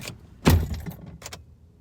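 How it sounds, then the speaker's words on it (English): A car's driver's side door is slammed shut once with a loud, close thud, followed by a few fainter rattles and clicks. "if he slams his driver's side door,"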